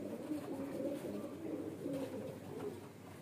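A hand-length young highflyer pigeon coos in a steady, low, murmuring stream that stays close and moderately quiet throughout, with no voices.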